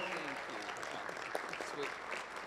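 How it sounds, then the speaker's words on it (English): Audience applause at an alumni of distinction ceremony, a steady round of clapping filling the room for a radio personality, with some voices mixed in. "Round of applause for one of the voices of CKLW Radio."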